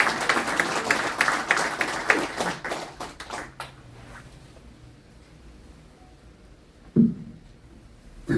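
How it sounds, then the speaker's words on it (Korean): An audience applauds at a Korean church emergency prayer gathering, a burst of rapid clapping that fades out within a few seconds, followed by quiet room tone and a single sharp knock. "우리 다시 한번 뜨거운 박수 보내주시면 감사합니다"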